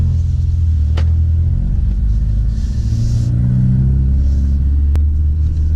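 A Ford Focus RS engine with an MRT cat-back performance exhaust rumbles steadily from inside the car while driving, a deep continuous exhaust drone with slight swells as it accelerates.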